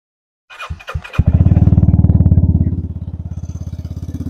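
A Vespa Sprint S150 scooter engine cranks with a few quick clicks and coughs, then catches and settles into a loud, fast, even putter close by, with no talking.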